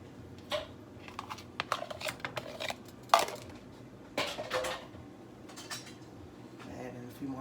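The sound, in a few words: cooking egg and peas together in a pan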